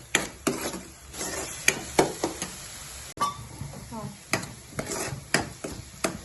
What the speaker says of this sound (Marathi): कांदा असा मस्तपैकी परतवून घ्यायचा आहे, त्याला तेल सुटेपर्यंत आपण परतत राहायचं आहे